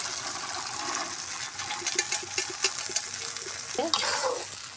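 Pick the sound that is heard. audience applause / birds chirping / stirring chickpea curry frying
stirring chickpea curry frying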